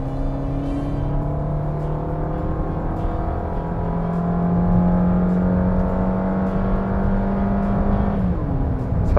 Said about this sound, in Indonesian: sekarang kita udah ada di proving ground bagian trek lurus untuk mencoba akselerasi